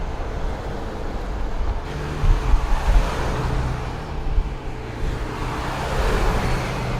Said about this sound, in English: I'm actually really impressed just outside how little of road noise these things really have.